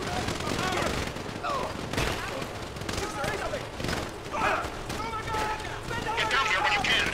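Sustained gunfire from GTA 5, fired during a mission shootout, rattles in bursts throughout under steady voices and in-game dialogue, with loud dense crackling and occasional heavier blasts.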